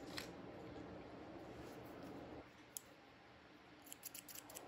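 Small scissors trimming hair on a sculpted bust, producing soft close-up snipping and crisp clicks of the blades, several short cuts near the end over a quiet background, with no talking.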